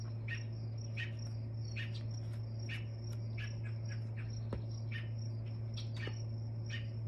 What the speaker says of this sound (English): There's birds like all over in this back area.